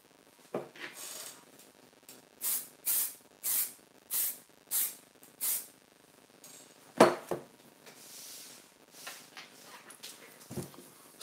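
A fixative spray can, used over chalk pastels on paper, hisses out a series of short, evenly spaced bursts, then a few louder, longer sprays after a pause, close by with no talking.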